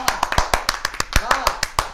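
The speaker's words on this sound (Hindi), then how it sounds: "बेसिकली ये ताली हमारे लेजेंड सिकंदर सनम साहब के लिए हो रही है" Applause from a comedy show audience, brisk rhythmic clapping with sharp, evenly repeated hits, close and lively, with voices talking over it.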